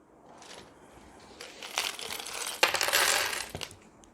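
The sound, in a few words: sewing clips being placed on fabric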